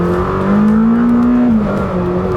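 A loud Lamborghini Temerario hybrid V8 engine revs up and swells in pitch, holds briefly, then eases back down over a continuous rumbling drone.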